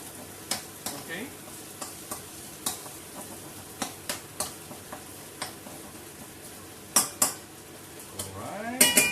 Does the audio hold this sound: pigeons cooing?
no